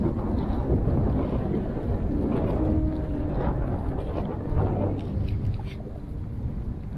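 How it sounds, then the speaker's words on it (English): Strong wind roars steadily in a snowy whiteout high on Mount Rainier, buffeting the microphone in a loud, constant rush with slight gusts and no speech. "the snow and wind pelting us incessantly"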